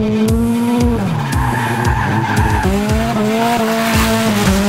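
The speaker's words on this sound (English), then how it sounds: "I control the car in a sliding manner. It's drifting, it's going sideways." RSR Scion tC race car drifting sideways, tires squealing in long repeated skids over a revving engine whose pitch rises and falls with each slide, loud and close.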